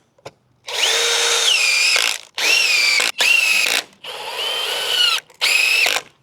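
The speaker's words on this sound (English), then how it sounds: "Now, do some pretty simple deck screws here." A cordless drill fitted with a battery adapter drives deck screws in several loud, close bursts that whine up and bog down slightly as each screw seats, with short pauses between and no speech.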